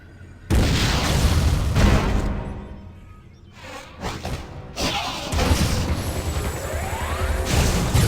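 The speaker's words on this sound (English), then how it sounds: "Why not say hello with a missile?" A missile explodes in the video game Metroid Other M with heavy booming blasts, then rumbling debris and whooshing effects, loud and close, with no talk.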